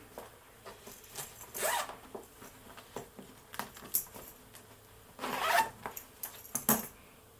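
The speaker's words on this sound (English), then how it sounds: "there's a big zipper here on the inside of the front flap." A large zipper on the inside front flap of a DJI Mavic 3 Cine carrying bag being pulled, with two or three close, sharp zipping runs separated by quieter rustling and handling.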